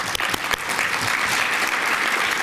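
Steady audience applause fills a room at a charity golf event gathering, dense and continuous with a few sharper claps up front, moderately loud and without talk.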